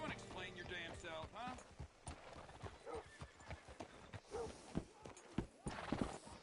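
Hooves clop steadily on hard ground, moderately close, with a horse's snorting and other game sounds layered over them, in Red Dead Redemption 2.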